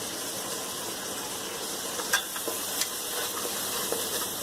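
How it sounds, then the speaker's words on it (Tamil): Mint and coriander leaves frying in hot oil for mutton dum biryani give a steady, close sizzle, with a few faint clicks of stirring on top. "இந்த புதினாவையும் கொத்தமல்லியையும் அந்த எண்ணெயில் நல்லா வதக்கி விட்டுக்கோங்க."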